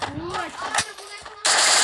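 Rapid automatic gunfire in a first-person shooter game, heard as a loud continuous burst that briefly drops, then resumes even louder and denser, with no clear speech over it.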